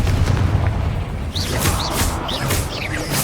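Confringo fire spells explode in the Hogwarts Legacy video game: a rapid series of booming blasts with whooshing, crackling bursts, loud and close, repeated several times in quick succession.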